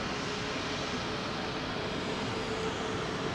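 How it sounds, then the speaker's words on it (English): A Boeing 777-200 airliner with Rolls-Royce Trent 800 engines at London Heathrow, runway 27L. A steady, moderately distant broadband engine roar stays even throughout without voices. "this is a 200 powered by Rolls-Royce Trent 800s"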